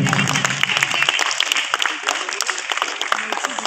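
An audience applauds at a festival ceremony as certificates are handed out, with brisk clapping from a crowd that starts full and thins out, and some voices mixed in.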